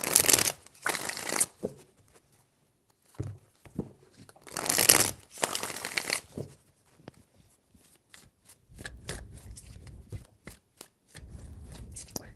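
Tarot cards are shuffled in several bursts of dry riffling and slapping, loud and close, with quieter card handling and soft rustles between and a brief low murmur in places.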